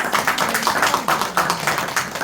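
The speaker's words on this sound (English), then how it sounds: "Can we give her a round of applause?" A small audience at a spiritual gathering gives a round of applause for a young woman, steady dense clapping from several people filling the whole stretch at moderate loudness.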